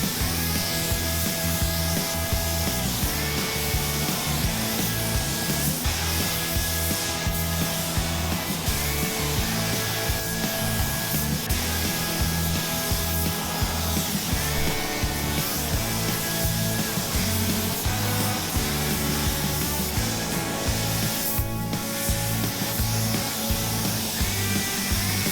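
Spray gun laying a clear coat on a Jeep, a loud continuous hissing rush of air and atomized paint with a steady mechanical drone underneath, close and unbroken, no talk.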